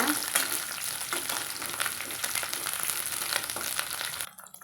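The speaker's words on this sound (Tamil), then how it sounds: "இது கூடவே கொஞ்சமாக கருவேப்பிலைகளையும் சேர்த்துக்கலாங்க சேர்த்திட்டு நம்ம வதக்கலாங்க" Small onions and curry leaves sauté in a hot oiled pan for sambar, giving a steady, dense sizzle with occasional stirring scrapes close by, then cutting off abruptly at the end.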